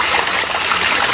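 Water trickling and running from a stream on a rural farm, a steady close broadband wash with no breaks, loud and continuous with no talk over it.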